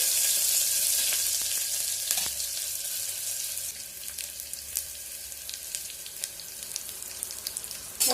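Onions frying in a pot for a one-pot black-eyed pea biryani, giving a steady, close sizzle with a bright hissy crackle and scattered pops throughout, with no talking.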